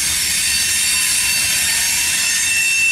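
A CSX grain train of covered hoppers rolls past near Main Street in Hamlet heading into the yard, a steady loud wash of wheel and rail noise that fills the whole clip without pause.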